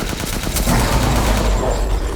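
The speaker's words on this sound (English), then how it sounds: "shoot down one of the guys on Heisenberg's production line" Dense gunfire in Resident Evil Village, sustained rapid shots with booming low end, loud and continuous for the whole stretch.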